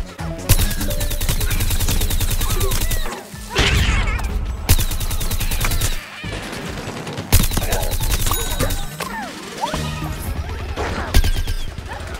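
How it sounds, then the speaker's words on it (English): Rapid bursts of sunbeam fire from a rooted Sunflower in Plants vs. Zombies Garden Warfare crackle loudly and continuously, layered with crashing impacts, explosions and sustained gunfire across a busy multiplayer match. "Here she is using her sunbeam ability, which is a rooted ability where she can't move, but she has a more powerful attack."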